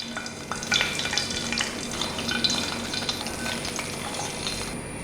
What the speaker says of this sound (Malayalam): നമ്മൾ റെഡിയാക്കി വെച്ചിരിക്കുന്ന കറിയിലോട്ട് നമ്മുടെ വറവ് ചേർത്ത് കൊടുക്കാം.